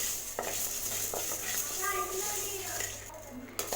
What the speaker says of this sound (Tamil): 1 ஸ்பூன் குருமிளகு, 1/2 ஸ்பூன் ஜீரகம். இது நல்லா லேசாக வறுத்துக்கலாம்